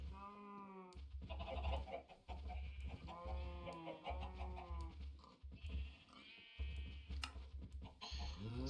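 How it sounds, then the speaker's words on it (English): A white chicken in the Minecraft modpack StoneBlock 4 clucks over a busy mix of overlapping farm-animal bleats and calls that runs on almost without pause. "We have white chicken."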